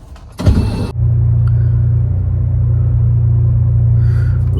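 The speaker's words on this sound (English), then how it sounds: "We'll turn on the car." A car engine cranks for about half a second and catches, then settles into a loud, steady idle rumble close by, with a brief higher whir near the end.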